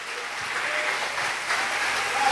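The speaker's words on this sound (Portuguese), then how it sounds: "Fique de pé e aplauda o nome do nosso Deus nessa noite." A church congregation at an evangelical service applauds with steady, dense clapping that swells slightly toward the end.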